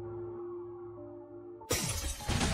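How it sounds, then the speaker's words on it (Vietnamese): A sudden loud crack and crashing break of an Arctic ice block cuts through a low droning hum, followed by a rough, crumbling collapse. "Tiếng nổ vang lên, tảng băng bên trái bị vỡ, ngay lập tức sụp đổ và chặn đường."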